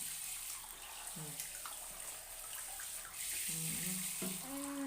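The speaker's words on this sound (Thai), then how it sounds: "น้ำยาบ้วนปากอีกรอบค่ะ แปรงฟันแล้วก็บ้วนปากนะคะ" Mouthwash and water are swished and spat out during toothbrushing over a constant background hiss of running water, with a few short gurgling sounds close by.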